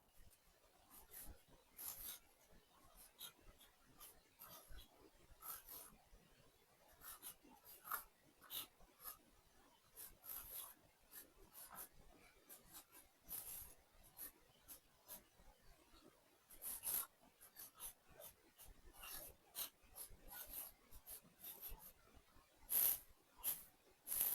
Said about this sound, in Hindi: सो हम यहाँ हेडिंग लिखते हैं जी रेजोल्यूशन ऑफ वेक्टर।